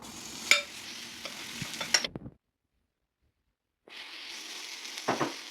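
Lazy khachapuri cheese batter with garlic meets a heated pan, giving a broadband sizzle with clinks and scraping, then a gap of near silence before the frying hiss returns with a few knocks.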